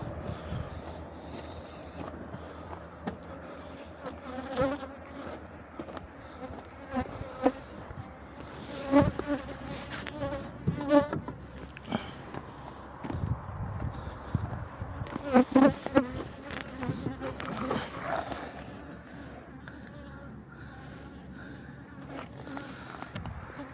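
Honey bees swarm around backyard beehives, a dense continuous buzzing drone of many insects close by, with occasional louder passes and faint clatter in the background.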